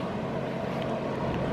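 A motorhome generator runs steadily with its exhaust piped upward through a Genturi stack, heard from about 20 feet away as a constant broadband drone mixed with outdoor air noise.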